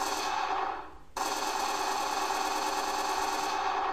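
Gunfire from a Unity 3D game test: a steady, loud run of rapid automatic shots that briefly drops out near the first second, then resumes without a break.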